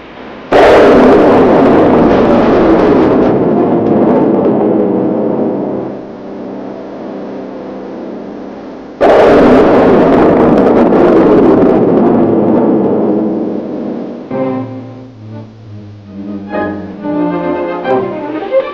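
Navy destroyer launching a surface-to-air guided missile, two loud roaring blasts of rocket exhaust that each sustain for several seconds before fading, the second followed by lower rumbling and a faint tonal tail.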